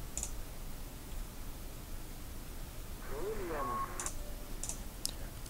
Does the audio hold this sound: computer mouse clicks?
yes